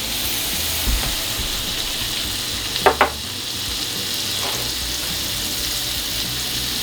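Butter added to a hot oiled skillet, giving a steady, loud sizzle and crackle throughout, with a couple of brief sharper clinks partway through and no talking.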